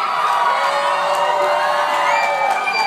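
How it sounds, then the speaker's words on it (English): A large convention panel audience cheers and whoops, loud and close, a continuous wash of shouting voices filling the whole moment. "Check out this crowd."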